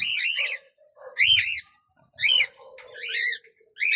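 Cockatiels calling loudly nearby in repeated shrill, warbling squawks, several bursts separated by short pauses, with no talking.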